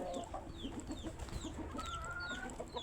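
Free-roaming hens on a household yard cluck in short, quiet, repeated bursts with faint bird chirps around them and no voices.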